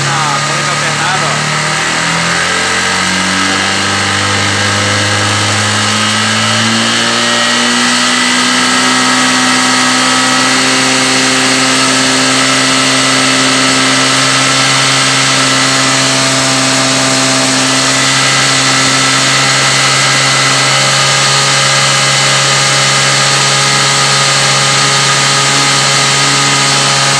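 A Honda CG 150 Sport motorcycle engine idling near 1300 RPM and then revving, a loud, close, steady drone that rises in pitch as it is throttled up and holds high, with someone speaking over it.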